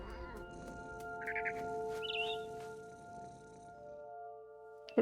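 A cat in the game What Remains of Edith Finch lets out two short, close meows in quick succession over a soft ambient hum, followed by a sudden sharp sound at the very end.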